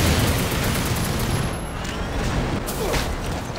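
Enemy shotguns firing in the co-op shooter Fuse, heard as a dense, continuous wash of gunfire and booms at steady loudness, with no clear separate blasts standing out.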